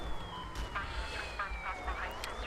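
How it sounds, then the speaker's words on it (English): Police car siren in Battlefield Hardline, a steady wailing tone sweeping slowly in pitch across the clip, moderately loud over game engine rumble and scattered effects. "if we spawn on another squad car, we can turn the sirens on"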